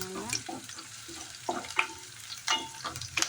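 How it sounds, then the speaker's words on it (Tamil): Curry leaves sizzle and crackle as they sauté in a pan, with a spoon stirring and scraping in irregular close strokes, steady frying underneath; no voice. "வதக்கி விடுங்க"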